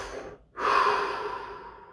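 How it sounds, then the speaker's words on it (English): A single deep breath, a long airy inhale swelling after a brief pause and drawn out close and clear, with no talk. "Take a deep breath."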